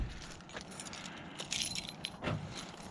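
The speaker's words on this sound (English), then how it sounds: "truck keys." A set of truck keys jangles close by in several short metallic bursts, with quiet outdoor background between them and no talking.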